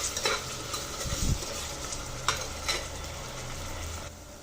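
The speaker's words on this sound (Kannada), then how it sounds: "ಇದನ್ನು ಚೆನ್ನಾಗಿ ಇವಾಗ ನಾವು ಫ್ರೈ ಮಾಡ್ಕೊಂಬಿಡೋಣ" Crushed ginger frying in a hot pan for a Malnad-style chicken curry, a steady close sizzle with a few scraping stirs and brief louder bursts, no voices.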